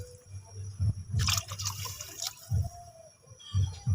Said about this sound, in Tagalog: Then lagyan na po natin ng tubig.